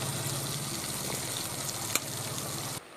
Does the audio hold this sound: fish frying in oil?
yes